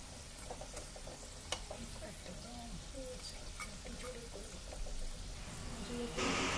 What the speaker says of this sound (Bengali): বড়াগুলো ফ্রাই হয়ে গেছে।